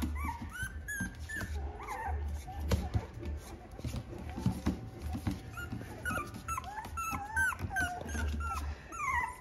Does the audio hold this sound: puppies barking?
yes